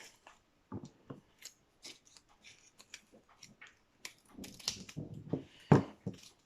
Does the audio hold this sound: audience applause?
no